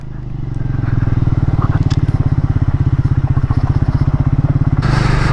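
A motorcycle engine thuds loud and close with a fast, even rhythmic beat while riding along a desert road in Ladakh under cloudy, cold conditions.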